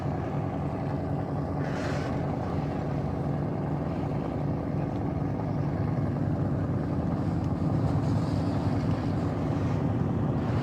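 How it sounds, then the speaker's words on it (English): A crowd of engines idles and rumbles together at a Ford car show, a dense, steady, loud low drone heard from a distance with some wind buffeting. "They're going to turn on all the engines in memory of people who have passed away."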